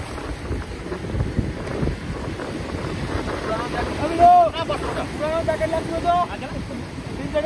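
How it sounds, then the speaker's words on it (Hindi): A speed boat sets off on the sea at Digha, its engine and hull noise blending with strong wind buffeting the microphone and washing waves, while people talk nearby throughout. "हम लोग स्पीड बोट में चढ़ चुके हैं तो अभी रवाना होने लगे"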